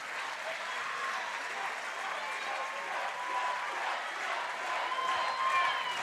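Sustained applause from an audience at a school board meeting, a continuous even roar of many hands clapping, with voices faintly audible underneath.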